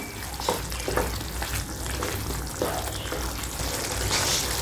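Jaggery is stirred into a garlic, pepper and dry ginger kuzhambu in a pan, with soft scraping spoon strokes over a continuous close simmering sizzle and no talk.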